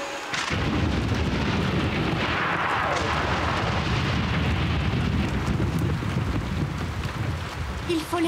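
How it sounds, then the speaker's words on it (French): Thunderstorm thunder in an animated Yakari cartoon: a loud, sustained rolling rumble with heavy wind-like roar filling the whole stretch, no voices over it. "Il faut laisser passer l'orage, Yakari."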